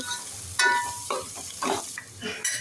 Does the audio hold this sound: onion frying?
yes